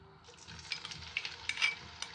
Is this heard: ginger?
yes